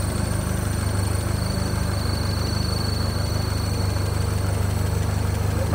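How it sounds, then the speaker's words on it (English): A 1955 Land Rover Series 1 86-inch two-litre engine idles steadily and evenly, a loud close rumble with a constant mechanical whir and no changes in pace. "nice little 2-litre engine, just doing what it should."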